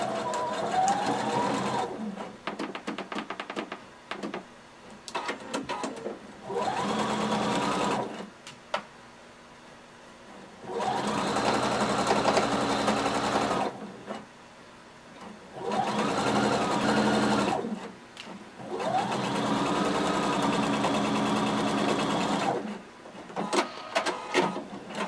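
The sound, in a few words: sewing machine stitching a jumpsuit seam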